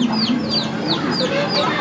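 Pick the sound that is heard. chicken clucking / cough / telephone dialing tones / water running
chicken clucking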